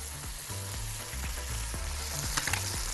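Spices, green fava beans and fresh coriander sauté in a pan with a constant close sizzle, punctuated by regular scraping stirs of a spoon against the pan.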